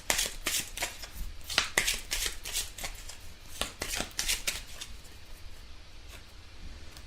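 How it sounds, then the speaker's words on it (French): Tarot cards shuffled and dealt in a quiet room, with a run of crisp riffling bursts and flicks that slows into a few faint single card snaps near the end. "Alors, on tire 3 cartes pour avoir des informations"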